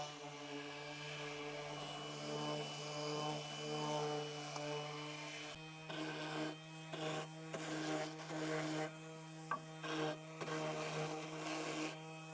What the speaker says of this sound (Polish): Po wierceniu jeszcze raz lekko szlifuję kantówki